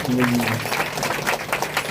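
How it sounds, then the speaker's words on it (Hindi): Applause from a church congregation for an elderly man, a steady dense patter of clapping through the short clip with a voice speaking briefly over its start. "जोरदार ताली बजाइए अंकल के लिए"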